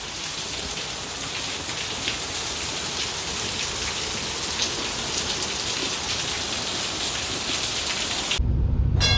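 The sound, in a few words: heavy torrential rain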